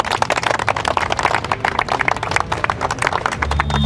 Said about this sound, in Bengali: একটা হাততালি বারুইপুরের জন্য।